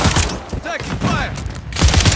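Rapid bursts of gunfire and explosions crackle in a Warzone match, loud and dense, with shouted voices and game callouts mixed in.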